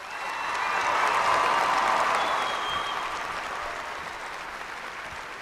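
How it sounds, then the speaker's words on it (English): A crowd applauds at the 2013 OHSAA Division IV girls basketball state championship, clapping that swells, holds for a moment, then gradually thins out. "Let's give them a great round of applause."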